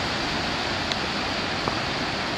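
Floodwater from the Carew Street drain gushes down into a creek in Brisbane's Kalinga Park during heavy flooding: a steady, dense broadband roar of rushing water, loud and continuous throughout with no voices.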